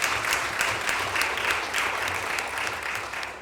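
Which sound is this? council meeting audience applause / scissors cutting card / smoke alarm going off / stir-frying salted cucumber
council meeting audience applause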